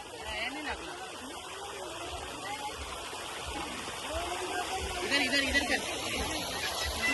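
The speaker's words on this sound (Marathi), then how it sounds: "तो रानसाई धरणाचाच पाणी आहे." Water from Ransai dam flows in a soft, continuous rush beneath people talking and laughing nearby, swelling slightly toward the end.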